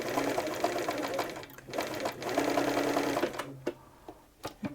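A Bernina 930 Record electronic sewing machine in need of a clean runs a zigzag stitch, with two steady mechanical bursts of whirring and clatter separated by short pauses, then a few light clicks as it stops.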